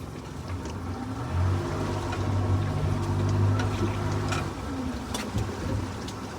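A boat engine running just above idle rises gently as throttle is added, a steady low hum that swells in the middle and then eases, with faint splashing and clicks on top.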